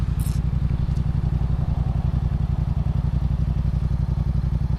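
A 2017 Yamaha FZ-07 (MT-07) motorcycle engine runs steadily with a throbbing, even pulse and some mechanical clatter, loud and close throughout with no talking.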